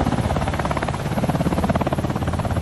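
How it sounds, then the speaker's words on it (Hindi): A large white toy helicopter runs close by with a loud, steady whirring buzz and rapid rotor pulsing, unbroken and with no talk. "चलो अब लेके चलते हैं अपना हेलीकॉप्टर, ये वाइट वाला बड़ा सा हेलीकॉप्टर"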